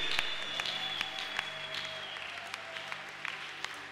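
A church congregation claps steadily in acclamation of Jesus during a prophetic morning service, a moderate wash of applause with sharp individual claps over a faint sustained musical tone.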